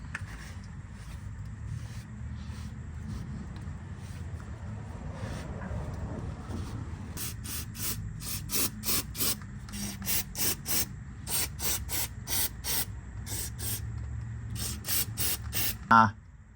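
Rag wiping and cleaning under a vehicle, with a low rumbling background and then a long series of short, sharp rhythmic rubbing or spraying bursts, close and moderately loud.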